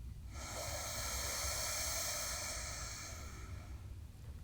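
A long, steady inhale through the right nostril during yoga alternate-nostril breathing, close and airy, swelling then tapering over a few seconds with no talk.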